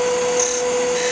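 A wooden wine goblet is parted off on a wood lathe, heard as a steady, close whirring and scraping hiss with a constant tone running through it.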